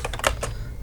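Several quick key clicks from typing on a computer keyboard in MS Word, close and fairly crisp over a low steady background hum, with no voices.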